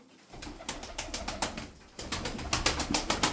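Play pigeons in a loft coo repeatedly in a quick, rhythmic series, close and moderately loud, with soft wingbeats and shuffling mixed in.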